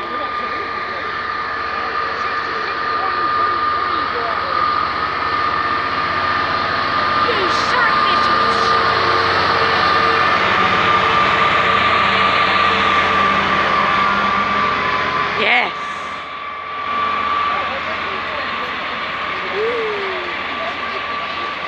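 A Class 66 diesel locomotive, 66133, roars with a loud, sustained, high-pitched engine scream that holds steady for a long stretch before briefly dipping, while people talk nearby.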